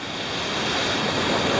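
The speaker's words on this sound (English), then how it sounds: "Fast moving water." Fast-moving water on the Okatoma River rushes in a dense, steady roar, loud and close, with a broad churning texture and some wind buffeting, no voices.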